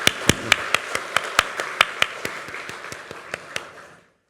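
Clapping of encouragement for church teachers at a Korean teacher dedication service, a crisp, evenly paced run of about seventeen sharp claps, close and clear, gradually weakening before stopping.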